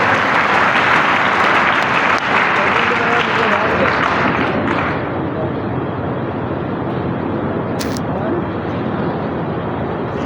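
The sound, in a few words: applause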